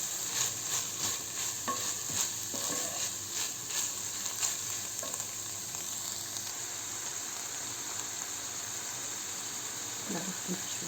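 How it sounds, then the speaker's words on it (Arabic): Tomato paste sizzles and fries in a pan, giving a soft, continuous crackle with occasional stirring scrapes, heard close but fairly quiet. "هلا هون بحتاج لمعلقتين بندورة، راح احمسها شوي حتى تروح طعمتها"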